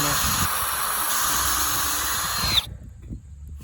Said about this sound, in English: We go ahead and drill straight through there